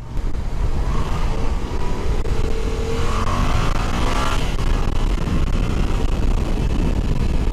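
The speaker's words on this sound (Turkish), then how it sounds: "Bugün ekstra bir trafik var yine." Street traffic heard from inside a moving car in busy city traffic: a continuous road and engine rumble with passing vehicle swells and a brief rising whoosh around the middle, loud and steady throughout.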